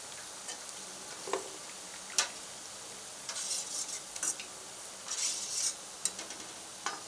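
Banana flower vadas fry in a pan of hot oil, giving a soft steady sizzle broken by scattered crackles, pops and a few sharp clinks of a utensil, close by with no talk.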